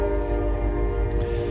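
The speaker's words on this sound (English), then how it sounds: "that's a train." A train horn blares loud and steady right beside the railroad tracks, its sustained chord filling the whole moment over the low rumble of a passing locomotive and rail cars.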